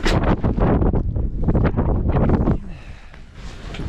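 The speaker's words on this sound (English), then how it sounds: "She's real windy out now." Strong wind blows across a frozen lake in bitter cold while an ice fishing camp is taken down. Loud, gusty buffeting hits the microphone in heavy bursts and eases slightly toward the end, with no voices.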